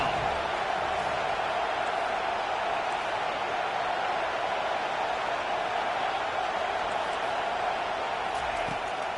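The SHSU home crowd at a football game roars steadily as the defense tries to get off the field on third down, a dense, continuous wash of cheering noise that stays at an even level throughout.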